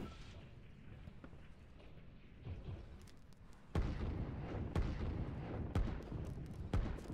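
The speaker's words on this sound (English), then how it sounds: "Looks like that artillery is going to get his comeuppance regardless." Artillery fire in the strategy video game Line War, a few sharp booms spaced a second or so apart over a low rumbling battle bed, fairly quiet overall.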